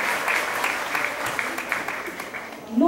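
Audience applause following a youth violin orchestra performance at a 2014 teachers' conference event in Itajuípe, a steady wash of clapping throughout with some voices mixed in and a louder voice near the end.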